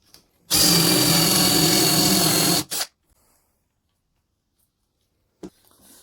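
A power drill bores a flat-bottomed hole halfway into a piece of wood, one loud continuous whirring burst lasting about two seconds that stops abruptly, followed by a short blip and near silence.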